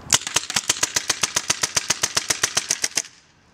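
A Tippmann T68 paintball marker firing full auto, a rapid, even burst of about twenty sharp pops over three seconds, close and loud, ending abruptly.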